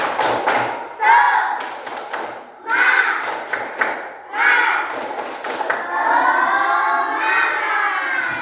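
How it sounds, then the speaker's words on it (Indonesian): Schoolchildren in a classroom perform the 'tepuk semangat' clapping chant, with loud, bursty claps interleaved with shouted group chanting, ending in a sustained loud cheer from the class. "Supaya lebih semangat, kita akan tepuk semangat dulu ya."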